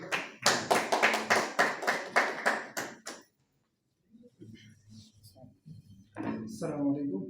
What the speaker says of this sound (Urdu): بہت ساری تالیاں اپنے لیے ایک دفعہ بجائیے